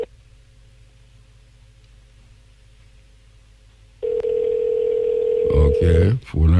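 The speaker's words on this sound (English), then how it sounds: "Phone ringing." Faint background hum, then a loud, steady telephone line tone suddenly starts and holds, with brief muffled noises near the end.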